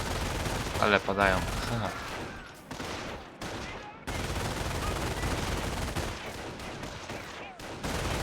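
Rapid bursts of squad rifle and machine-gun fire against an enemy patrol in the World War II strategy game Company of Heroes, sustained and loud with brief lulls, while someone talks and laughs over it.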